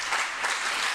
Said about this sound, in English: And this crowd just showing their appreciation for Cara Noir now.